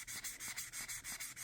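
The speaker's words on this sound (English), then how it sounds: "So I'm doing very light sanding across here." Light wet sanding of clear coat on a 1957 MGA Coupe, a steady series of rhythmic back-and-forth rubbing strokes, close and moderately quiet, with no talking.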